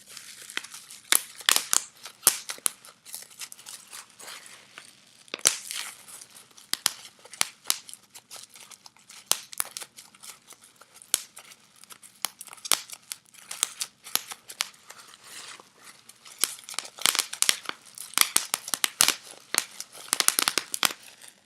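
Very small bubble wrap being crinkled and popped up close, a dense, irregular stream of sharp crackling snaps and crinkles over about twenty seconds, loud pops scattered among softer rustling, with no talking.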